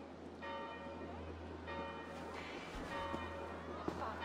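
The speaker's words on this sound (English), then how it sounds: "Do you not hear the bells?" Church bells toll in Assassin's Creed Valhalla, repeated strikes with long sustained overtones ringing over a low steady rumble, moderately loud and continuous throughout.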